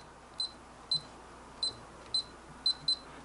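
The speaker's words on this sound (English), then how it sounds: "You hear it go beep beep. That means you did correct." Short, sharp electronic beeps from a safe's keypad as a new combination is entered come one at a time at an uneven pace, six in all, the last two close together, clear and close against quiet room hiss.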